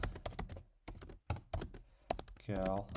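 Code being typed on a computer keyboard during a programming tutorial, with quick clusters of clicking keystrokes that pause and resume beside someone talking close by.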